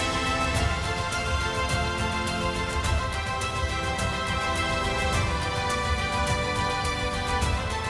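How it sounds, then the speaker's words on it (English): Epic orchestral music with a lush string section of many violins plays continuously at a steady, full loudness, sweeping and dense, with no talking over it. "There you go. Lots of violins."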